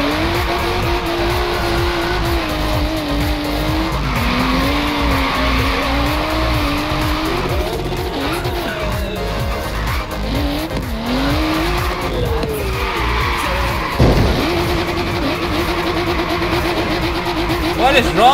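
A Bugatti races in Forza Horizon 3, its engine droning loudly and steadily while the tires squeal and skid through repeated slides, with no break in the noise.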